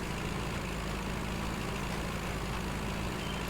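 MB Trac tractor engine in Farming Simulator 19, a steady low droning idle-like rumble held evenly throughout at moderate distance, with no other sounds.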